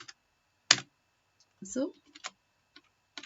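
A computer keyboard being typed on in a few scattered, sharp keystrokes, close to the microphone, with a brief spoken word and some breathy vocal sounds between them.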